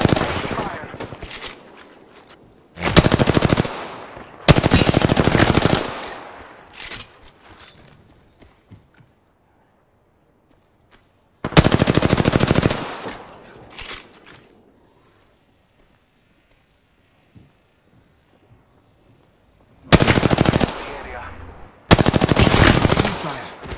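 Bursts of rapid automatic gunfire from a first-person shooter match, loud and close, coming in several separate volleys with quieter gaps of game ambience between them.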